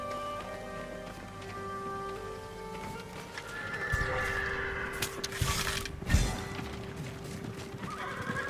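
Samurai horses at a stable in Ghost of Tsushima neigh and whinny while hooves clip-clop. Game music plays underneath, and a louder snort-like burst comes near the end.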